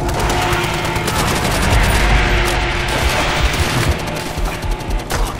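Dense, loud, continuous gunfire in Call of Duty: World at War, a World War II shooter played co-op: sustained rapid automatic fire and overlapping shots with booming impacts throughout, with no talking.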